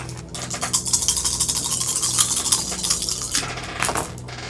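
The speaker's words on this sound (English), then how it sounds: "That sounds like a dice roll." Dice roll during a tabletop game of Ten Candles, a busy clatter of rattling and tumbling that keeps going for several seconds at close range.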